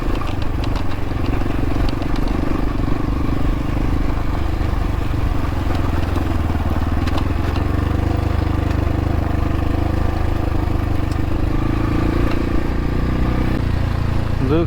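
A dirt bike engine running steadily out on a canyon trail near Florence, Arizona, with a continuous low drone and mechanical clatter and no clear changes in throttle.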